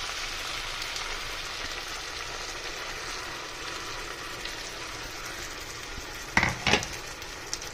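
Masala is stirred into a broad bean seed curry cooking in a pan, a steady soft sizzle and simmer with a couple of sharp spoon-scraping clinks near the end.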